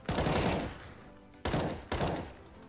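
Counter-Strike: Global Offensive gunfire, three loud, close blasts, each trailing a long decaying echo, the first ringing out longest, with no talk over them.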